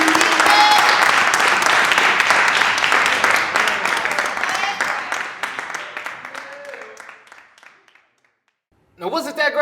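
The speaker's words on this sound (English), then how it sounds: "Clap it up" An audience applauds after a poem at a spoken-word poetry event: loud, dense clapping that slowly thins and fades to near silence, then a voice starts speaking at the very end.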